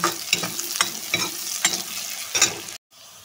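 Local hill onion, dried chili and garlic fry in pure mustard oil in a pan, with a loud continuous sizzle broken by rhythmic stirring scrapes. The sound then cuts off abruptly.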